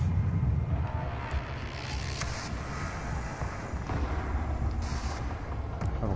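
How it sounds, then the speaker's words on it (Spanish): An explosive shot weapon fires in the video game Doom, giving deep, rumbling booms over a continuous low roar of game audio, with no speech. "Disparo explosivo."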